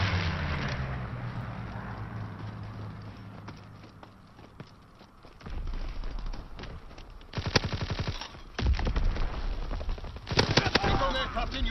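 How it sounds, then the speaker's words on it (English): Strafing gunfire from a fighter-pilot air support run in the video game Call of Duty WW2. The clip has bursts of rapid automatic fire, with a heavy rumble early on and sharp, loud volleys toward the end. "Fighter pilot inbound, strafing the target."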